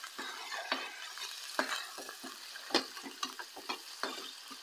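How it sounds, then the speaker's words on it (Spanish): Green beans sautéing in a pan for a mole dish, a soft continuous frying hiss with irregular scraping stirs and light clicks of the utensil, close and fairly quiet. "Entonces estamos sofriendo los ejotes."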